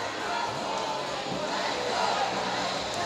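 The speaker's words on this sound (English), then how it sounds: "And you can hear the fans in the background cheering on the Nationals." An arena crowd of hockey fans cheers the Nationals in a steady, dense roar that holds loud throughout.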